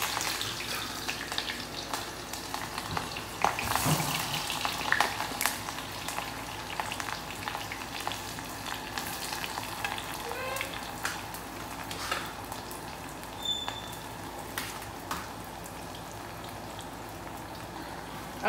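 Chopped onions fry in hot oil until browning for an aloo keema dish, a faint, steady crackling sizzle with scattered small pops and a louder burst early on, no speech.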